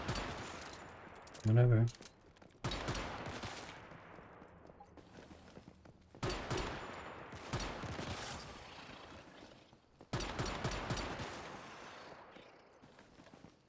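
Gunfire of tungsten rounds in the Once Human game comes as several separated bursts of rapid shots, each volley trailing off, with someone talking between them.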